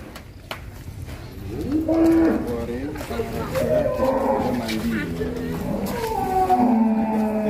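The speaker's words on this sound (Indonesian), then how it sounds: "Si hitam ini sapi jenis apa bro?" A large black bull moos in long, wavering bellows over several seconds, close and loud, with crowd chatter and voices in the background at a cattle contest gathering.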